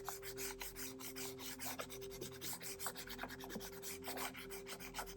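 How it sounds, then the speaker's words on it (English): Chalk rubbed flat against the back of a sheet of paper, a steady raspy scraping in repeated short strokes, close and quiet with a faint background hum. "on the back of it, I'm just going to take my chalk and rub it flat."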